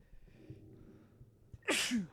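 A single loud sneeze bursts out near the end, with a sharp breathy onset and a voiced tail, after a few seconds of quiet room murmur.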